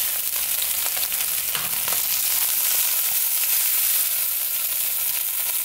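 Beef ribs browning in a pan give off a loud, steady sizzle and crackle of frying fat that holds at an even level throughout with no speech.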